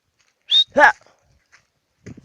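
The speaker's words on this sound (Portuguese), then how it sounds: "Ó o cachorrinho" A small dog gives two quick high-pitched yaps close by, followed by a faint rustle and another soft yip after a short pause.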